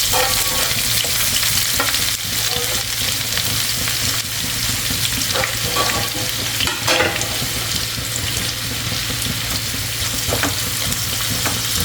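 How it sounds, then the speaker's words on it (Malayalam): Onion sautés in hot oil, making a loud, dense, steady sizzle. Occasional stirring scrapes rise above it, and no one speaks. "ഇനി നമുക്ക് ആ എണ്ണയിലേക്ക് ഒരു സവാള ഒന്ന് മുരിച്ചെടുക്കാം"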